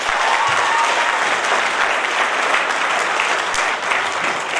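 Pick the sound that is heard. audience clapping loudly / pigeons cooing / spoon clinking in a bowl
audience clapping loudly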